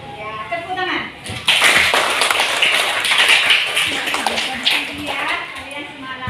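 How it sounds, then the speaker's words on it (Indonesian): Schoolchildren in a classroom clap their hands together in a busy, close burst of claps mixed with children's voices and chatter, after a brief quieter start. "Ya, tepuk tangan."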